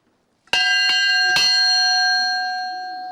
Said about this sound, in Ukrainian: Корабельний дзвін сигналізує про завершення чергового вітрильного сезону.